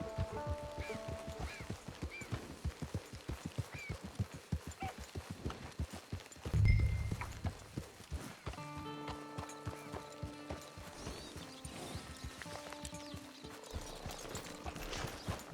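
Horse hooves clip-clopping in Red Dead Redemption Online, a steady rhythmic trot of hoofbeats with a brief thump midway and a melodic music score layered in later.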